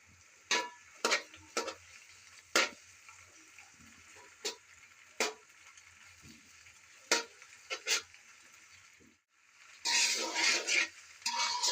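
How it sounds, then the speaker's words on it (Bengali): Pasta being stirred in a pan, giving scattered scraping clinks of a utensil against the metal with quiet gaps between, then a louder burst of dense stirring noise near the end. "এবার সব কিছু নেড়ে চেড়ে নিলাম"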